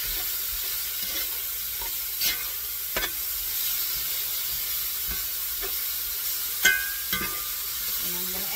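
Green chili sizzles while browning in a pan for Arizona beef burritos, a constant hiss with occasional stirring clinks and scrapes, close-up and fairly steady, no voices.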